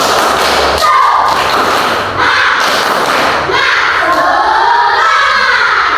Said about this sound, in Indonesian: Coba dulu tepuk semangat dulu. Tepuk semangat.